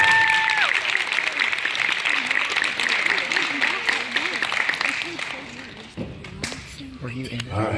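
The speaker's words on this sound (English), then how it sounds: "Give him a nice round of applause." An audience at a hypnotist stage show applauds, dense continuous clapping that holds steady for several seconds, then thins to scattered claps while a voice talks over it.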